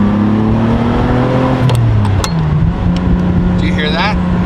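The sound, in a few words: Ferrari downshifting with gated shifter, engine revving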